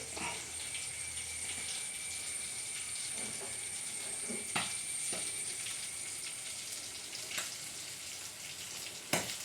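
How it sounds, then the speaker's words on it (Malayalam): Fish fries in a pan with a soft, continuous sizzle and hiss, punctuated now and then by small utensil taps. "പച്ചമീൻ വറുത്തുകൊണ്ടിരിക്കുകയാണ്."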